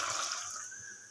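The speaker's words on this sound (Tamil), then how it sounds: "இப்போ நல்ல கொஞ்சம் தண்ணி விட்டு சேர்த்து அலம்பிட்டு சேர்த்துக்க போகிறேன்." Water pours into a pot of mutton curry in a home kitchen, a faint continuous splashing trickle lasting about a second with no voices.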